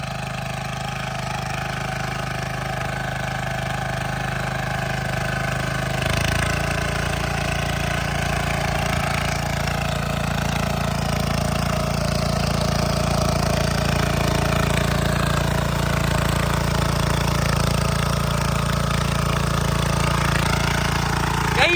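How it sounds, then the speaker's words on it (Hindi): A Kama 7 HP power weeder engine fitted with a ditcher, tilling and cutting through soil, droning steadily and loudly throughout at close range, with no talking. "देखिए किस तरह से ये जमीन को पूरा फाड़ते हुए जा रहा है डीचर लगा के।"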